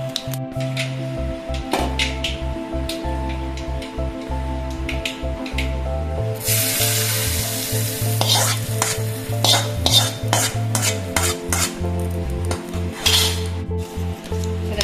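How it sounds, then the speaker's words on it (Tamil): A spiced tempering of curry leaves, cumin and onion being stirred into raw mango pickle, with steady scraping and stirring strokes, a sizzle and light clinks of a spoon against the pot, close and continuous. "நல்லா மிக்ஸ் பண்ணி விட்டுருலாம்"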